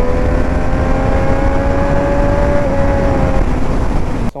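2019 Triumph Street Triple 765 RS three-cylinder engine held high in the revs, a loud, steady buzzing drone, close and continuous, ending abruptly.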